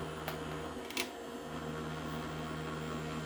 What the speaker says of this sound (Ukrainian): то вентилятор дуже сильний